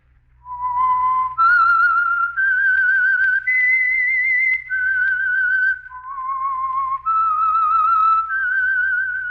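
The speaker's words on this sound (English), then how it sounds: "That whistle is your signal for the Signal Oil Program, The Whistler." The whistled theme of The Whistler radio program: a lone, clear human whistle carrying a slow, eerie melody of sustained notes that step up and down, close and prominent over near silence.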